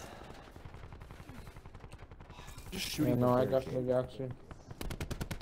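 Rapid video game gunfire from a sniper shooter, a burst of loud automatic shots mid-clip with further sharp shots at the end, under a man's ongoing speech.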